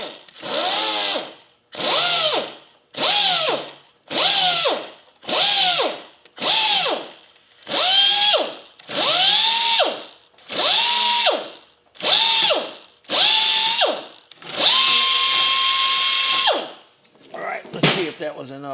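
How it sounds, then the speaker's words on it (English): Electric sander working a metal drive part in short, loud, whining bursts, about a dozen on-off pulses in quick succession, then one longer sustained run and a final brief rattle. "So I use this sander"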